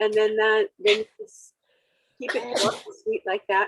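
One sharp sneeze breaks in between stretches of a person talking in an online mastermind call, close and abrupt, with speech resuming right after.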